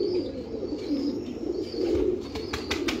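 A golden racing pigeon coos in soft repeated low calls, close by, with a few sharper chirps and clicks toward the end and no talking.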